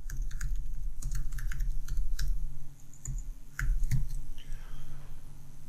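Typing on a computer keyboard while entering C++ code, a close, steady run of crisp key clicks with short pauses, alone with no speech.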